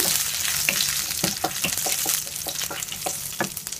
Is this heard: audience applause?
no